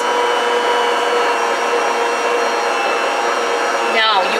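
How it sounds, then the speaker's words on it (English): A stand mixer kneads dough for Italian-style sub rolls, giving a steady, loud motor whir with harmonic hum that holds evenly, then shifts briefly near the end. "you're going to start to hear the machine really, it's going to get much lower, and then we're going to turn it up"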